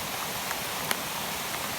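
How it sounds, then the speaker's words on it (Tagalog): Heavy rain pours in a dense, steady wash of noise that fills the whole clip on its own, with only a few faint ticks of drops standing out. "Grabe talaga yung ulan."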